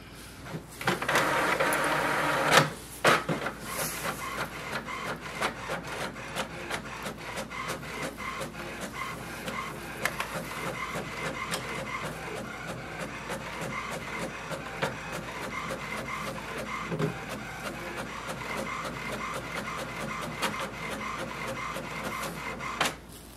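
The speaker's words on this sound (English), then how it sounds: "Setup is complete and we can print a page just for the confirmation." An HP Envy 6432e inkjet printer whirs and clatters through a page, starting with a louder mechanical burst, then a long run of rhythmic ticking and sliding carriage passes.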